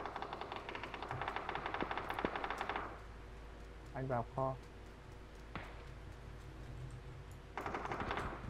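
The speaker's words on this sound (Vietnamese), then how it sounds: "anh nghe tiếng súng gần" Rapid bursts of nearby automatic gunfire in a shooting video game, two long crackling volleys with single shots between them, while someone talks over the top.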